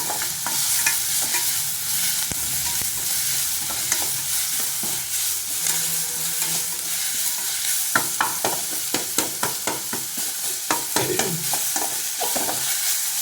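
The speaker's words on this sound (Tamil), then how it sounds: "நான் வெண்டைக்காய் மல்லித்தூள்லாம் போட்டு வதக்கிட்டேன்" Okra with coriander powder being sautéed in a pan, a soft continuous sizzle under repeated scraping stirs that become quicker and sharper toward the end, close by with no talking.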